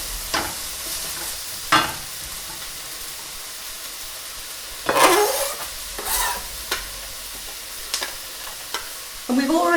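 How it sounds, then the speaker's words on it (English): Garlic and ginger hit a hot pan of quickly cooking vegetables, giving a steady sizzle broken by a few sharp bursts of stirring and scraping, close and fairly loud, with no talking. "And so I'm going to add the garlic and the ginger."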